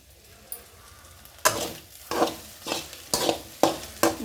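A spoon stirs milk mixed with Boost in a cup, making quick, close scraping swirls that fall into a regular rhythm after a faint start.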